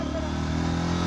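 A motorcycle being ridden with the clutch held in, its engine humming steadily and close by at moderate revs for about a second.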